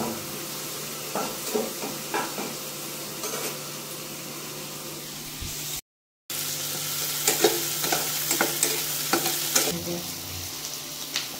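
Onions frying in a pan for butter chicken, a steady sizzle with repeated stirring scrapes and clinks, close and fairly loud, with a brief dropout in the middle.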